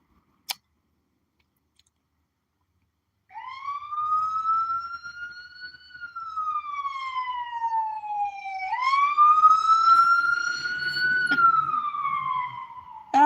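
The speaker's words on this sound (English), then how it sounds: "That was an ambulance headed towards the hospital." An ambulance siren wails outdoors, sweeping slowly up and down in pitch as it passes by, loud and clear, after a single sharp click.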